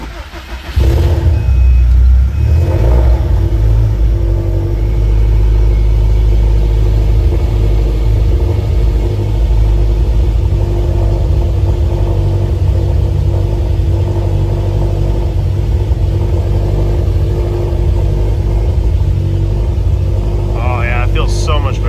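A Subaru STi with a new clutch cruises along local roads. Its engine gives a loud, steady low rumble inside the cabin for the whole stretch, with a brief rev near the end.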